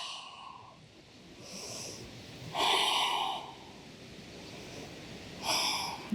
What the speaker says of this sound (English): Couple restorative breaths.